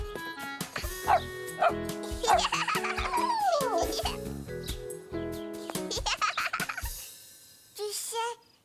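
Small dog yapping in quick, high bursts amid busy cartoon music and voices, with a brief bark again near the end.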